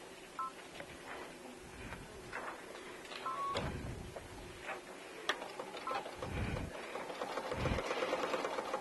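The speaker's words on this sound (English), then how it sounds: "And I'm going to start sewing right in the dot." A domestic sewing machine fitted with an open toe presser foot runs in short bursts of rapid stitching, with clicks and pauses between runs while the fabric is repositioned, close and moderately loud.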